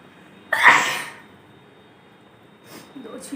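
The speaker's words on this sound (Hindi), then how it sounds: "दो छींक आ गई।" A person sneezes after tickling the inside of the nose with a long, soft blade of grass; one loud, close burst of sneezing is followed by a quieter stretch and a faint stir of movement.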